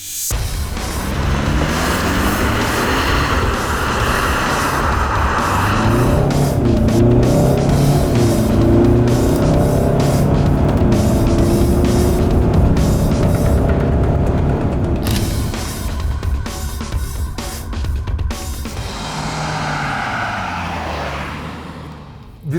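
Kia Sorento engine while driving, heard as a loud, steady drone with road rumble that shifts in character partway through, with no talking over it.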